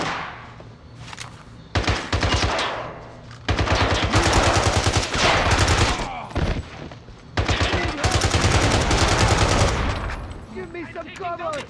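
Heavy gunfire in the James Bond 007 Blood Stone video game, loud bursts of machine-gun fire and rapid shots in several sustained volleys, with brief pauses between them.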